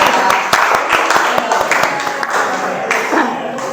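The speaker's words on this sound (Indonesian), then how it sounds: "tepuk tangan ya untuk kelompok 1" A class applauds a student group after their presentation, a brisk scatter of overlapping claps over a few seconds with light talk mixed in.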